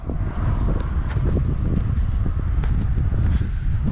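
Strong wind at a scenic overlook near Cizre in Şırnak, Turkey, buffets the microphone with a loud, continuous low rumble and gusty rustle throughout.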